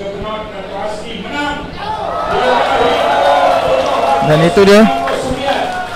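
A crowd of Barisan Nasional supporters cheers at a candidate announcement for the Benut state seat, a sustained roar of voices swelling after the first couple of seconds while a speaker talks over it.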